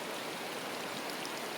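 Rushing floodwater after heavy rain roars in a steady, dense wash of noise, close and continuous with no breaks and no voices.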